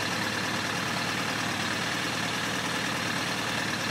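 A Suzuki GSX1100G motorcycle engine idles steadily at close range, giving a continuous, even drone that stays level for the whole stretch with no revving or speech.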